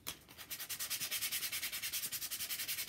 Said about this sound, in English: I'm going to give it a little sanding.